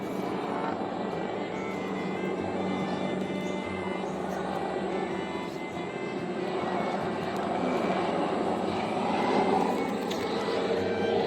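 A steady helicopter engine drone hangs overhead for the whole stretch above rice fields near Borobudur, Indonesia, swelling slightly toward the end with no talk.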